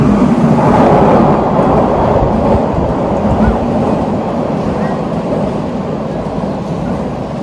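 A train rolls into a station platform in Shinjuku, Japan, a loud, steady low rumble that eases slightly toward the end, with no voices over it.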